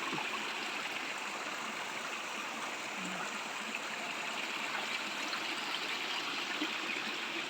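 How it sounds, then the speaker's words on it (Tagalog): Water flows steadily from a natural spring on farmland near Caliraya Lake, a constant close babbling of a stream that runs without a break and with no voices. "Dito sa galing po yan dun sa source ng tubig, yung sa bukal."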